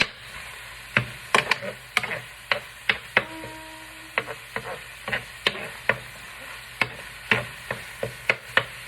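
Fideo noodles browning in a pan, with a soft sizzle under frequent sharp scraping and tapping strokes of a utensil against the pan in an irregular rhythm.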